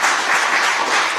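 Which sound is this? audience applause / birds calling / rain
audience applause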